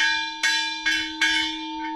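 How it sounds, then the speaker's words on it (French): Church bells made from car wheel rims, struck with a connecting rod, ring out in Bolivia: three clear metallic strikes at an even pace and a softer fourth, each leaving a sustained ringing tone. "Regardez les cloches, c'est des jantes."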